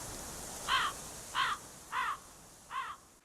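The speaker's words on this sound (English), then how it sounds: "a crow caws in the background," Four evenly spaced caws from a crow in the Chinese folk horror video game Firework, distinct and moderately near over a quiet hiss of ambience.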